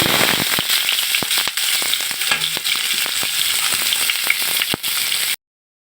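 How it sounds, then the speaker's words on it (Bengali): Chopped onions fry in hot oil, giving a close, dense sizzle with frequent sharp crackles and pops. It carries on steadily for about five seconds and then stops, with no one speaking. "পেঁয়াজ ভাজা হয়ে গেছে"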